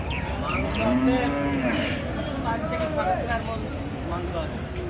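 A Holstein Friesian bull at a cattle market gives a drawn-out moo that rises and falls. The animal is fairly close, and people talk in the busy background.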